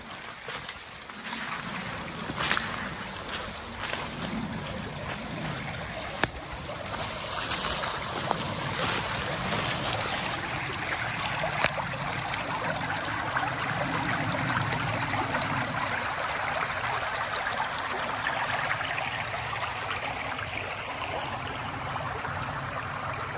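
A creek flows steadily in an outdoor setting with no clear trail, giving a broad continuous wash of rushing water that holds fairly even for over twenty seconds, with a few faint knocks near the start and no talking.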